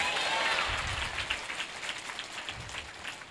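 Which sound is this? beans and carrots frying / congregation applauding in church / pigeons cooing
congregation applauding in church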